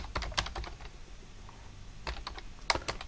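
Java code being typed on a computer keyboard, a run of quick, close clicky keystrokes in bursts separated by brief pauses, with no talking.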